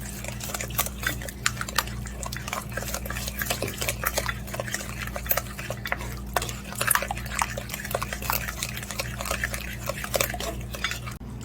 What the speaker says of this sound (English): So I'm gonna make the barbecue sauce and honey mixture here. 1/4 cup brown sugar. And just mix it.